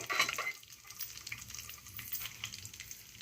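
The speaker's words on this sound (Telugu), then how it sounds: "సో ఇప్పుడు వెలిగించాను, అందుకే తొందరగా వేగిపోయి, చూసారా, వేసిన వెంటనే వేగిపోయాయి" Lentils fry in hot oil in a pan, producing a faint, close crackling sizzle with light stirring clicks, strongest at the start and then a quieter steady hiss.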